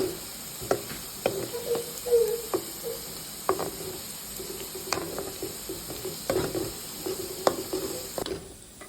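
Chicken pieces for pickle fry in hot oil with a steady sizzle, stirred constantly so nothing sticks to the bottom; the spoon scrapes and clacks against the pan in irregular bursts, close and moderately loud.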